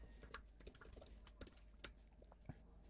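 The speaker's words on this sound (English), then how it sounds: "Of course, we start by typing" Code being typed on a computer keyboard, a quiet, irregular run of close key clicks with small pauses between bursts.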